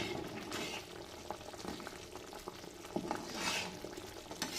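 Chili powder mixture being stirred in a cooking pan, soft continuous sizzling and bubbling with occasional scraping taps of the utensil, close and fairly quiet, no talking.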